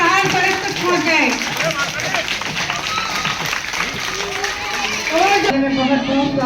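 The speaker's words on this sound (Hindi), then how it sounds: "सभी जोरदार तालियां बजाइए बच्चे। इतनी जोर से बजाओ कि बाहर सड़क तक पहुंच जाए।" Children clap loudly in a crowd at a sweater distribution event for poor children in Bulandshahr. The applause is steady and sustained, and a voice talks over it throughout.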